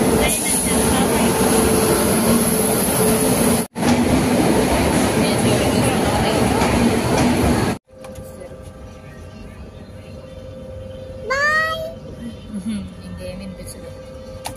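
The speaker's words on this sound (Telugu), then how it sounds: "ట్రైన్ వచ్చేస్తుంది." A train pulls into a railway station with a loud, continuous rumble and roar for several seconds, which then drops to a quieter platform hum with a short high squeal or whistle near the end.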